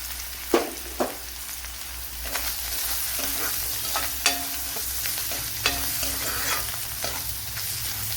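Chicken frying in leftover oil from earlier frying, with steady crackling sizzle and several sharp scrapes and knocks of a spoon stirring the pan, close and fairly loud, no talking.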